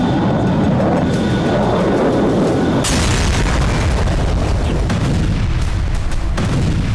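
Missile warheads explode in a string of heavy booms, a deep rumbling blast roaring on, then a sharp new detonation cutting in partway through and more rolling bursts following, loud and continuous with no voices.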